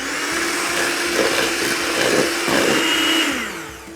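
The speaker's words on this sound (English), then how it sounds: "I'm going to start with 6 egg yolks and add 100 grams of golden caster sugar to this. I'll whisk it till it's light and creamy." An electric whisk whirs steadily and loudly as it beats egg yolks with golden caster sugar in a bowl. The motor pitch shifts slightly throughout and fades out near the end.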